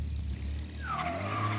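A car engine in the video game Mafia Definitive Edition hums with a steady, smooth low drone, close and continuous, while a rising tone sweeps in partway through.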